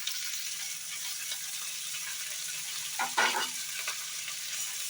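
Chopped garlic, onion and spring onion frying in a pan for chilli baby corn, a soft steady sizzle with a brief burst of scraping and stirring near the end, no talking.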